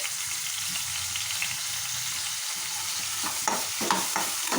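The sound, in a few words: frying sliced onions and green chillies for potato curry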